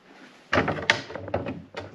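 The small doors of a solid oak Japanese jewelry and music box are opened close by, with a sudden wooden clunk followed by several lighter knocks and rattles of wood on wood.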